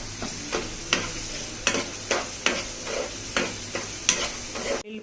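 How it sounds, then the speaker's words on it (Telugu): Onion frying in oil with dried red chillies, a constant soft sizzle punctuated by about eight regular spatula scrapes against the pan roughly once a second, heard close and without speech. "ఉల్లిపాయ, కొంచెం బ్రౌన్ కలర్ వచ్చే వరకు ఫ్రై చేసుకోవాలండి"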